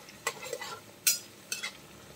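Small onions being sautéed in a pan for a chicken stir fry, with three or four quiet scraping stirs of a utensil over a faint, low sizzle, no voices.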